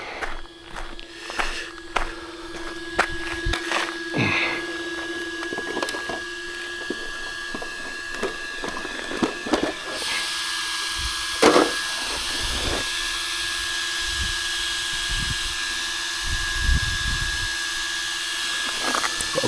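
A cooling fan runs on an ARRMA Notorious V6 RC car: a steady electric whine with a thin tonal hum, growing into a louder, fuller whirring hiss partway through, with occasional handling knocks.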